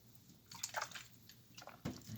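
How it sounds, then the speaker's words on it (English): A person takes a drink of water, with a few close, wet slurping and sloshing bursts separated by short pauses and no talking. "Drink a little water."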